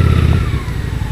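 Honda Shadow RS cruiser motorcycle with a light flywheel, its engine running loud and close in a steady low rumble throughout.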